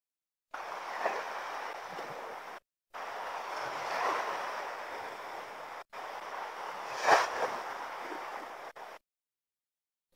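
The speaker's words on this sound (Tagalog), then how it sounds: "lakas ng alon" Strong waves surging against the shore during afternoon casting for fish, a steady broadband wash broken by brief gaps, with a louder swell near the seventh second and wind buffeting the microphone.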